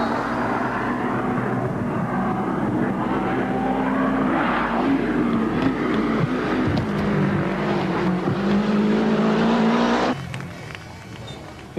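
A 1990 Lancia Delta rally car drives a special stage, its engine droning loud and close with shifting revs for about ten seconds before dropping away sharply to a quieter rumble.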